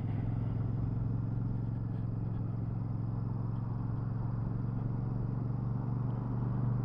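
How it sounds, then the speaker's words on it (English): A 2023 Royal Enfield Super Meteor 650 rolling downhill in third gear, a steady low engine drone with continuous road and wind rush, even and unchanging throughout with no talk. "We're going to do a third gear roll on down the hill and back."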